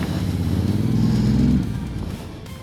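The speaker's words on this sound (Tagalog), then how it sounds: "Tignan natin yung puwersa ng makina." A Honda X-ADV 750 scooter engine pulls steadily uphill on a trail, a loud, close, continuous drone that swells in the middle and eases off toward the end.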